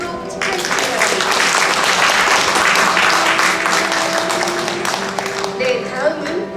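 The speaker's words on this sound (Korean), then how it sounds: "박수로 축하해 주시기 바랍니다." Audience applause at a 2023 award ceremony, a dense steady wash of clapping that swells in at once and holds loud for several seconds before thinning slightly, with a voice briefly audible near the end.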